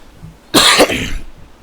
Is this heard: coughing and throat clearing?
yes